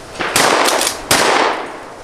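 Shotgun fired at clay targets, two loud blasts about a second apart, each with a sharp crack and a ringing decay.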